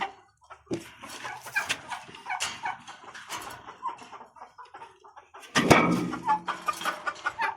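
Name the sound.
chickens clucking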